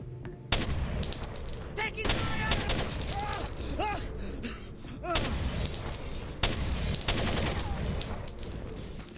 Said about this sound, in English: Just listen to the power of a single Kalashnikov.